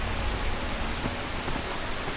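Steady rain pours down in the game Skyrim, a dense, even hiss of drops hitting surfaces throughout the short clip, close and continuous, with no other sounds or speech.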